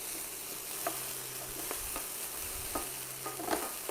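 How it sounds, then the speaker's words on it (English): Onion fries in a pan for creamy pan-fried gnocchi, a soft even sizzle with occasional light taps and scrapes of a utensil, no speech. "Now you're going to just cook this for a couple of minutes, just till that onion started to soften."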